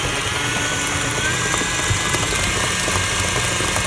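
An electric mixer creaming butter and brown sugar, giving a steady, loud motor whir with a rough, churning rumble close by and no talking.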